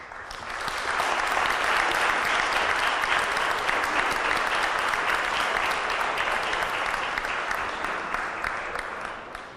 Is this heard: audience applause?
yes